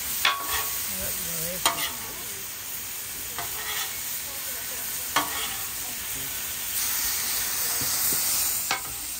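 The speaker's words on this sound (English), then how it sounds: "let's stir our onions up a little bit" Onions and vegetables sizzling on a Blackstone griddle while a metal spatula stirs and scrapes them, a continuous close hiss broken by sharp clinks and scrapes at irregular intervals.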